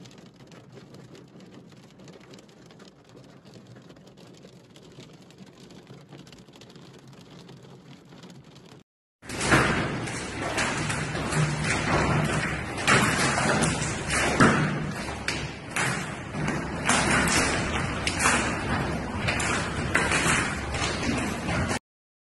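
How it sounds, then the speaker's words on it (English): A violent hailstorm in Rome: a dense, loud roar of hailstones pelting surfaces with sharp thuds and taps, preceded by a quieter stretch of muffled rain before the abrupt heavy downpour. "Rome was struck by an unexpected violent hailstorm, transforming ancient streets into rivers of ice."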